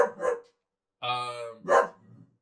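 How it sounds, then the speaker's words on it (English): A dog barks three times in quick, separate bursts, fairly close, with short silences between them. "Alright, if you hear barking, Jack is trying to play with Leia."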